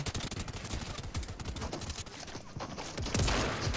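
Rapid bursts of automatic gunfire from an Apex Legends match, loud and close, with dense overlapping shots and a final heavier blast toward the end.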